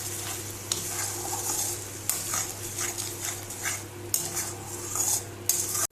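Poppy seeds and melon seeds sauté with onion and garlic in a hot pan, a soft constant sizzle under repeated scraping and clinking of a spoon stirring against the metal, close up.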